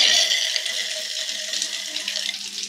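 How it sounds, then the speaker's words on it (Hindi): Water from a submersible borewell pump pouring steadily into a storage tank, a continuous loud rushing splash that holds for the whole stretch before easing slightly at the end. "ये टंकी का पानी इसके अंदर आना शुरू हो चुका है, और ये अभी समरसेबल का है"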